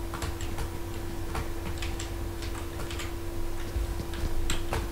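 Footsteps in the PUBG Mobile video game, on its pharaoh island map, come as quick, regular ticking steps over a constant electronic hum. They are steady and fairly close, with no talking.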